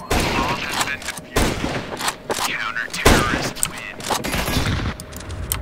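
Automatic gunfire in the video game CS:GO, with repeated loud bursts of rapid shots cutting in and out across the clip, separated by short gaps and mixed with game ambience.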